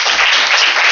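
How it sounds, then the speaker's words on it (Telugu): Church congregation bursting into brief, loud applause, a dense wash of clapping lasting under a second. "గట్టిగా చప్పట్లు కొట్టండి"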